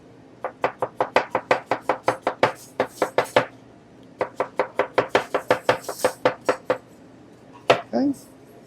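Onions are being chopped with a sharp knife on a board in a quick, even run of crisp taps that pauses briefly, then repeats. A short vocal sound comes near the end.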